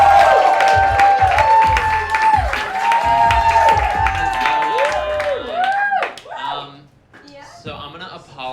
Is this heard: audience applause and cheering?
yes